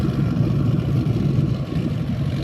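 A motorboat engine with its engine compartment raised runs at a steady low rumble, close and continuous throughout, with no talk over it.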